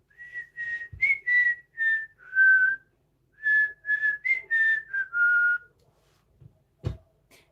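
A person whistles a cheerful melody of about a dozen clear, sustained notes in short phrases, close and loud, followed by a single sharp knock near the end.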